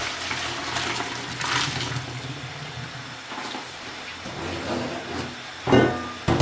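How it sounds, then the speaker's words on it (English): Cooked pasta and hot water poured from a pot into a kitchen strainer, a continuous gushing, hissing pour with a louder splash near the end. "Pasta is ready, so we want to lift that up and pour it into our strainer."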